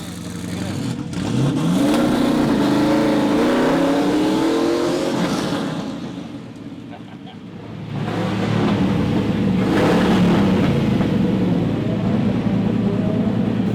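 Quad-turbo LS-swapped Audi Quattro race car at Daytona speedway, its engine revving and rising in pitch, easing off briefly mid-way, then climbing again loud and close, with people talking faintly underneath.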